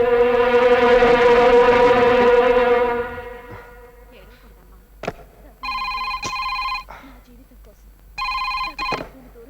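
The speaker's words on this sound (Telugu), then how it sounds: "కాంచనా, మీ అమ్మగారు ఫోన్." A telephone rings in two short, bright electronic bursts spaced apart, following a fading sustained tone, with quiet room sound between rings.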